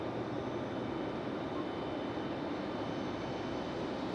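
An American Airlines jet, a 737, departs Raleigh-Durham airport at night, its engines producing a steady, broad distant roar that stays constant throughout.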